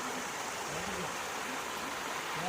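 Water pours down from the hilltop at Bhairavakona waterfall as a constant, soft rushing wash, fairly quiet and even throughout.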